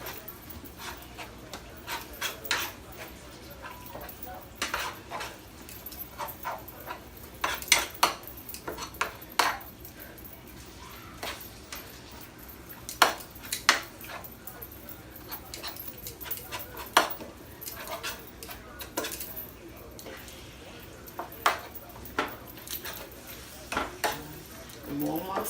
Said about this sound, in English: just keep stirring it as it gets brown